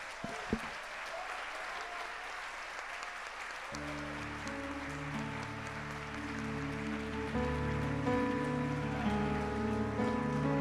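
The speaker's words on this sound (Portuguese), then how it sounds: "Aplaude ao Senhor, Ele merece, Ele é digno." A church congregation applauding during a devotional service: a broad, steady wash of clapping that carries on throughout, with organ or keyboard chords coming in under it partway through.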